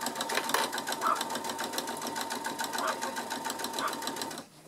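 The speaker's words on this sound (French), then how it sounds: "Donc on va coudre tout le tour du sac" A sewing machine stitches all the way around a fabric tote bag one centimetre from the edge, its needle running in a fast, even, steady rhythm, close and continuous until it stops abruptly.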